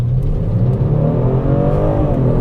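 A 2020 Genesis G70 pulls away in Eco mode, its engine note rising gradually in a steady, loud cabin drone with climbing harmonic tones as the car gathers speed.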